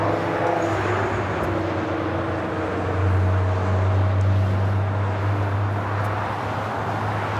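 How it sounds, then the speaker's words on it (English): An Asiana Airlines Airbus A380 arriving at Los Angeles International Airport gives a continuous, fairly loud low jet rumble with a steady engine drone that swells slightly midway, with no talking. "This is Asiana Airlines 202 coming in from Seoul on the A380."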